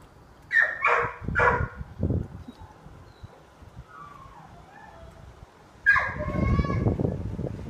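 A puppy yips and barks in short high bursts early on and again near the end, close by, with people talking around it.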